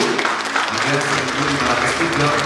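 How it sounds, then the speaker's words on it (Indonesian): Audience applause at a BPS Kediri Regency ceremony sending off census officers for the 2026 economic census in Kediri, Indonesia: a dense, steady wash of many hands clapping throughout, loud and close, with faint voices mixed in. "Tepuk tangan dulu."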